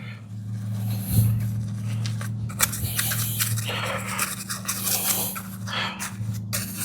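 A stiff brush scrubs a car wheel coated in slick decontamination cleaner, making steady scratchy strokes over a constant low mechanical hum, with no talking.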